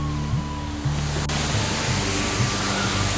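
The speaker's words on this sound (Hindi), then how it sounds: "ये एक छोटा सा वाटरफॉल बनता हुआ" A small waterfall near Devnala in Madhya Pradesh, a steady broad rush of falling water that stays even throughout, with faint low tones from other sounds underneath and no talk.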